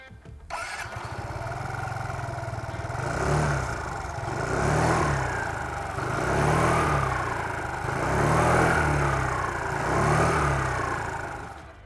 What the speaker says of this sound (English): let me start it up so that you can listen to its mechanical exhaust note that is typical of an Aprilia